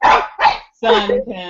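A pet dog barks indoors at home during an evening online gathering, a few sharp, loud barks mixed in with a person talking over them.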